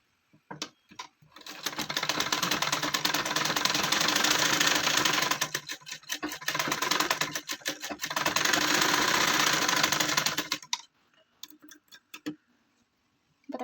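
Sewing machine stitching fabric for a child's gown: two long bursts of rapid, even mechanical chatter, close and loud, separated by a short pause, with scattered clicks before and after.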